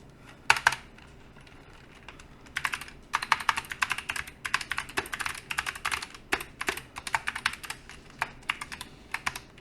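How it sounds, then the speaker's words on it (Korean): Keys on a computer keyboard are pressed in quick bursts of close, sharp clicks, the pattern varying from rapid runs to sparse single taps. "나 선택하고 싶다 그러면은 Alt Z 키를 누릅니다"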